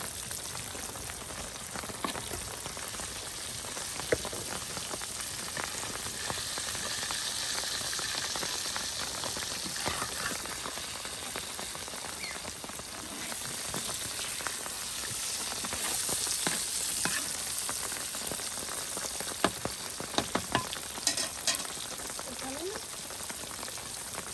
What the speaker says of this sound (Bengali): নানি কিন্তু নানার জন্য কত বড় সরপুঁটি মাছ ভেজে নিচ্ছে